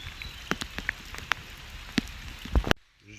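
Rain patters on the surface of a pond, the Étang de Grésy, as a steady wash of scattered drip ticks and plops before the sound cuts off abruptly.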